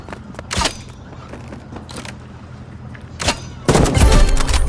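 Gunfire in the Roblox game Rivals: several sharp, separate shots spaced irregularly, then a louder, denser burst of firing near the end over a low steady background hum.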